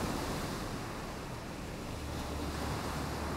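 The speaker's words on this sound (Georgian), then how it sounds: "ძლიერი ქარი ამოვარდა, ზღვა ახელდა." Broadband roar of wind-driven sea waves surging on open water at night, steady and loud throughout with a dense low rumble and no voices.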